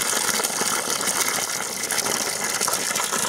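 Water gushing hard from a thawed, previously frozen outdoor water hydrant, a loud continuous rushing spray up close with no talk.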